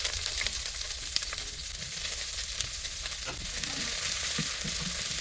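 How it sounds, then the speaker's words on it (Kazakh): Peppers and onion fry in a little oil in a pan after garlic has been browned, giving a steady, even sizzle and hiss from start to finish with no talk over it. "Бұрыштарымызды 2-3 минут қуырып алғаннан кейін дайын тұрған баклажанды қосып"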